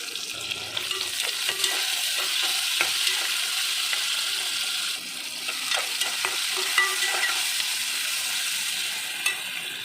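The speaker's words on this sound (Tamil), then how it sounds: "வெங்காயமும் முள்ளங்கியும் எண்ணெயில் நல்லா வதக்கணும்." Sliced onion and radish sizzle and crackle steadily in hot oil as they are stirred in a pan for sambar, with occasional scraping of the spoon; no talk.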